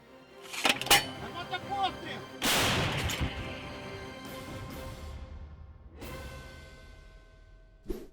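A 2A65 Msta-B howitzer fires a heavy artillery boom with a long rumbling tail, preceded and followed by sharper distant blasts, with faint voices in the background.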